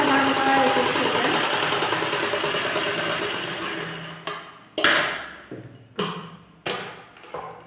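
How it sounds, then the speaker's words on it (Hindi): A sewing machine stitches tucks on a belt blouse in a long steady run, then in several short separate bursts with pauses between. "4 टक्स हम इस तरह से स्टिच कर लेंगे"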